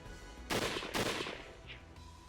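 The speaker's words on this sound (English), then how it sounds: "the sound of bullets being fired rang out from behind us" Gunfire in a visual novel game comes as two loud, close bursts in quick succession, then a fainter shot, all over a steady background hum.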